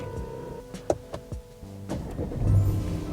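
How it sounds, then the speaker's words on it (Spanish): A Peugeot 308 starting up: a few sharp clicks and a short starter crank, then the engine catching into a steady low idle, close by with no talk. "Coche encendido."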